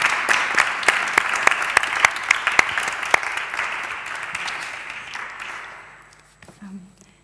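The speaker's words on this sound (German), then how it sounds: "Aber begrüßen wir zunächst mit einem ganz herzlichen Applaus Elisa Joie-Dusapin bei uns auf der" An audience applauds at a literary stage event as a guest is welcomed, a sustained steady clapping with a few sharp claps standing out, fading away after about six seconds; a voice briefly speaks near the end.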